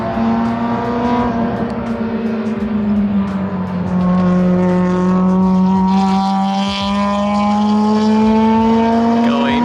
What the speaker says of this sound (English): I gotta get this S2000 just ripping on it.